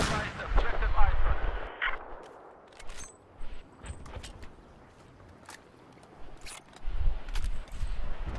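Sniper rifle gunfire in a Battlefield 4 Conquest match: several loud, sharp cracks with booming tails, spaced seconds apart, with other distant battle noise and players talking in between.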